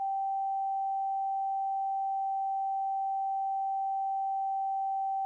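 A steady electronic concert A tuning reference tone sounds alone from a keyboard instrument, a pure sustained pitch held at an even level for the whole stretch with no other sound.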